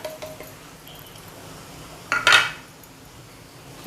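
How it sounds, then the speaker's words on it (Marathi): A utensil scrapes and clinks against a pan as spices are stirred into onions for a bell pepper stir-fry, mostly quiet with one sharp metallic clatter partway through. "छान असं परतून घेऊया हे बघा छान असे आपले हे मसाले हे कांद्यामध्ये व्यवस्थित असे परतून झालेत"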